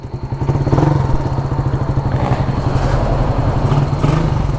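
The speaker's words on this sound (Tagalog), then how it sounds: "Oh, papadyak pa tayo. Wala kasi yung starter nito." A Radier 150 motorcycle with a damaged piston and no working electric starter is kick-started, its single-cylinder engine catching into a loud, steady, close throbbing idle with light mechanical clatter throughout.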